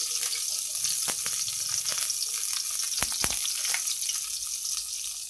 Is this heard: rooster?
no